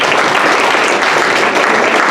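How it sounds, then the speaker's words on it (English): Loud, dense applause from a group at a professional development session, a steady burst of clapping lasting a couple of seconds with no talking. "give yourself a round of applause"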